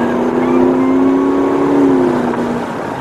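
A car passes along a street, its engine tone swelling loud and close before tapering off as it moves away, with a steady harmonic hum and no talk over it.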